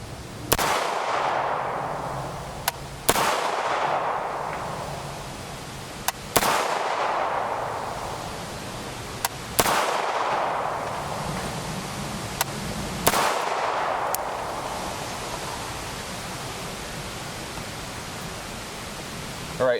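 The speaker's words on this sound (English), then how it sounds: "We used the Freedom Munitions 45 ACP Hush for the test." A CMMG MKG Banshee .45 ACP fires Freedom Munitions 45 ACP Hush subsonic rounds, about six sharp shots spaced a few seconds apart, each followed by a decaying rumble.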